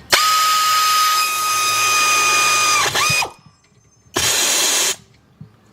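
A power tool whirs loudly for about three seconds while tightening a 14 millimeter brake caliper bolt during a Honda or Acura front brake pad job, then gives one shorter burst after a brief silence.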